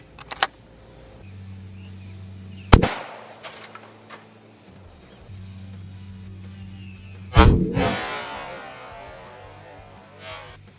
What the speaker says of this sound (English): now here goes the 308 Winchester Super X